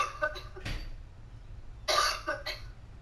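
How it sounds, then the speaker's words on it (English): A woman coughs several times in sharp, close bursts, with short pauses between the coughs. "excuse me, I had a cough."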